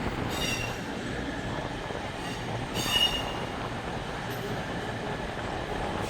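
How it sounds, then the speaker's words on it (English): A CrossCountry Voyager train moves through Manchester Piccadilly station, a steady broad rumble of wheels and rail noise with faint high squealing bursts, heard near and continuous throughout, with wind noise buffeting the microphone. "I'm going to stop monologue there and wait for this particular train to leave"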